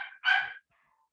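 A dog named Azra gives a short, fairly close yelp-like bark after a brief preceding sound, then everything falls quiet.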